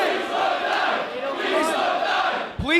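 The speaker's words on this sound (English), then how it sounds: "Please don't die, you can hear from the crowd." A wrestling crowd at an ICW heavyweight title match chants in unison, a loud, sustained rhythmic roar of many voices filling the arena, ending with a sharp shout nearby.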